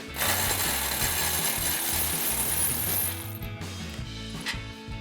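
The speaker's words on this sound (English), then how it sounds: "And we'll run them out with our power ratchet." A power ratchet runs bolts out on a 2004-2020 Ford F-150 during a leveling kit install, giving a loud, steady mechanical whir and clatter for about three seconds before it eases off into quieter rattling.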